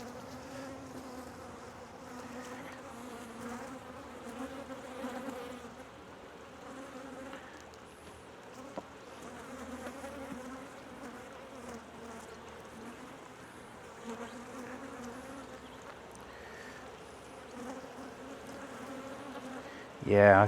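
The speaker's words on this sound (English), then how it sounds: "There's some bees emerging." Honeybees buzz in a steady, dense drone from an open hive being inspected, close and continuous throughout, with faint handling noises and a brief louder knock at the very end.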